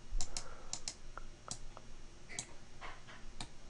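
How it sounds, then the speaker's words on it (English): Typing on a small computer keyboard: quiet, close, irregular key clicks in short bursts with gaps, over a low background hum, no speech. "I'm dealing with a really small keyboard right now, so kind of used to a huger keyboard"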